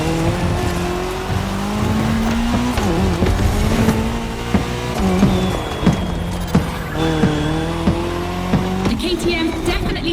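Engines roar steadily in The Crew Motorfest as a Puma car and a KTM motorcycle race side by side. Rising and falling revs, gear shifts and brief tire squeals sound loud and close throughout.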